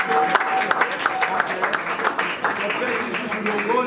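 Audience applause for a Congolese evangelical Christian group, a dense sustained clatter of many hands, fairly near and steady for about four seconds, with voices mixed in underneath.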